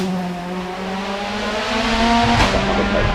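A car launching from the start line at the Goodwood Festival of Speed 2016, a loud close engine rising steadily in pitch as it accelerates, with a sharp burst of tyre or exhaust noise near the end.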